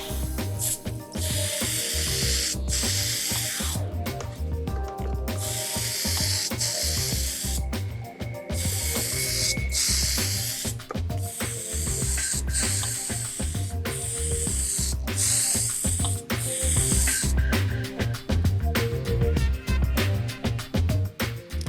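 Aerosol can spraying paint onto a spaceship model, steady loud hissing bursts repeated over and over with brief pauses between passes, alongside clicks and rattles of handling.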